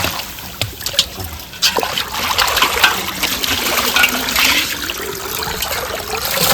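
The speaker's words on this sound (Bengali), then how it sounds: "মাছগুলিকে ঢেলে নিয়ে বেশ ভালো করে ধুয়ে নিতে হবে" Freshly caught fish, shrimp and prawns from the Sundarbans are rinsed with water, a steady close splashing and trickling that swells and churns without pause, with no voices.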